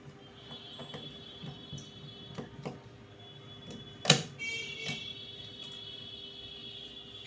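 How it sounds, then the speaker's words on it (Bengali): Small screws being unscrewed from a Poco X3 Pro phone during repair, heard as faint intermittent metallic clicks and ticks with a sharper snap midway, close and quiet over low background hiss. "স্ক্রু খুলে নিলাম"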